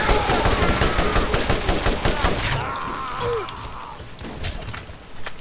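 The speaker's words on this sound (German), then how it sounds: "jetzt habe ich das Geschütz aufgestellt" A deployed turret fires in the Borderlands video game, rapid bursts of gunfire crackling in a dense run for the first half before thinning to scattered distant shots and effects.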